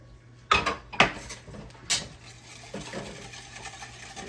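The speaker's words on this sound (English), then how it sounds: "We're gonna mix all this together." Orange cranberry muffin batter being mixed in a bowl, with a few sharp clinks and knocks of a utensil against the bowl followed by softer scraping and stirring, close up with no talking.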